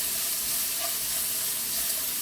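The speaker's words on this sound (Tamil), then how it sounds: "நல்லா வதங்கட்டும் வெங்காயம்." Onions softening with a little salt in a pan for South Indian wheat rava upma, giving a continuous soft hiss of frying at an even, moderate level with no stirring strokes.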